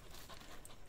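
A dog on a hunting trip in the woods pants quickly and softly, rapid breaths close by under a steady outdoor background hiss, with no talking.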